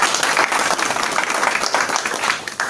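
An audience applauds at a talk, giving dense, steady clapping that is loud and sustained, with no speech.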